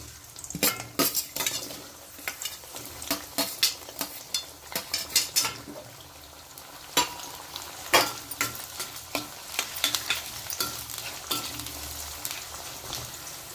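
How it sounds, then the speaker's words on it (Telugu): Chopped onions sizzle in hot oil for Andhra-style spicy chicken fry, a steady frying hiss broken by frequent sharp clinks and scrapes of a spoon stirring against the pan, close and fairly loud with no talking. "ఇగోండి ఇప్పుడు మనం కోసి పెట్టుకున్న ఉల్లిపాయలు వేసుకుందాం"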